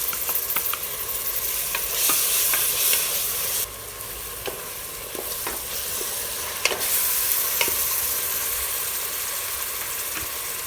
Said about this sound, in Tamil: அந்த விழுதை இதில் போட்டுடலாம் போட்டு நல்லா வதக்கிடலாம்